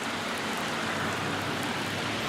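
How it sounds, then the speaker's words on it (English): Steady rain coming down outdoors near an overhang, a dense, even hiss of falling drops that holds constant throughout with no voices. "But yeah, this rain's coming down now."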